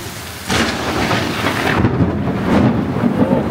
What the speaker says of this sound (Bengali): এখন রাতে বজ্রপাত হইতেছে